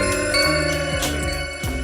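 A steady telephone ringtone plays late at night in a shop, loud and continuous across the whole stretch, with overlapping tonal chimes and no talk.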